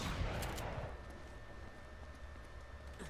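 A single loud gunshot fired at a lock in the video game Uncharted: Drake's Fortune cracks at the very start, then rings off into a long, hissing decay.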